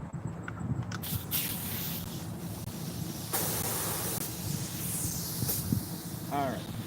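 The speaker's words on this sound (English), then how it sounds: "I need my air hose." A compressed air hose in an auto repair shop blows a steady, loud hiss that runs for several seconds, ending with sharp bursts and a few short, high squeaking blasts.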